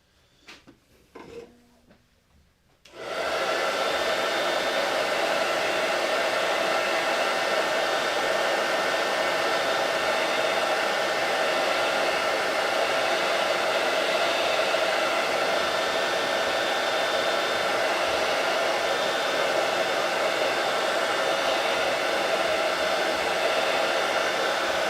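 A hair dryer dries a Chalk Couture stencil, starting after a few seconds of light handling noises. Once on, it roars steadily and loudly from close by without stopping.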